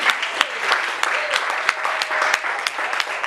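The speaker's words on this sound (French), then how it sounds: "Les acclamations sont tellement faibles" A church congregation applauding and cheering, a steady wash of clapping with a few sharp individual claps standing out, moderately loud and continuous throughout.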